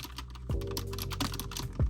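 Close, quiet typing on a Seenda Bluetooth keyboard: a steady run of soft plastic key clicks with a couple of heavier thumps, no talking.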